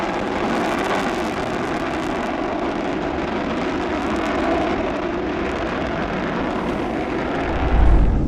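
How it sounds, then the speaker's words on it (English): Loud, continuous roar of supersonic heavy bombers taking off from RAF Fairford, broad and rumbling, sustained throughout with a slight swell near the end. "These supersonic heavy bombers roared into the sky from Fairford for their first takeoff of the deployment"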